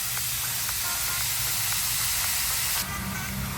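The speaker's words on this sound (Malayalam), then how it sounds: "നന്നായിട്ട് ചോപ്പ് ചെയ്ത സവോള ഇതിലേക്ക് ഇട്ട് കൊടുക്കാം" Chopped onions tossed into hot oil for a restaurant-style egg curry give a loud, steady hiss of sizzling close by, which then drops abruptly to a lower, softer frying crackle.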